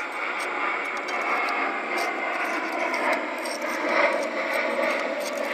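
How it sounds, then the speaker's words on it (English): A fixed-wing airplane passes overhead as a steady, broad drone that holds for several seconds, heard from outdoors with no speech while someone pauses during small-engine sump cover repair work. "Hold on, let the plane go over."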